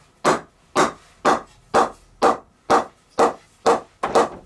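Mallet blows on a wooden blank during custom Puma ballistic profile shaping, nine sharp, evenly spaced knocks about half a second apart, close and loud with a ringing wooden tone.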